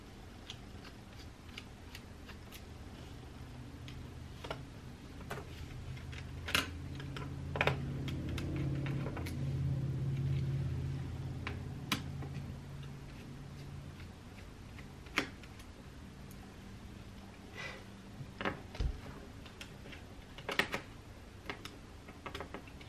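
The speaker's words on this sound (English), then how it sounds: "So I'm going to go ahead and unscrew those." Screws holding a laptop LCD screen to its rear lid are undone by hand, giving faint, scattered small clicks and ticks of a screwdriver and metal parts against a quiet room background, with no voices.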